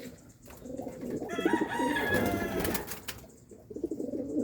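Homing pigeons coo in a low, repeated rhythm close by, with several birds overlapping; louder calls cluster toward the middle before settling into softer cooing.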